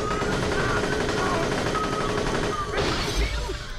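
Gunfire in the video game Borderlands: The Pre-Sequel, a steady loud barrage of shots with game effects layered over it and a brief sharper burst near the end.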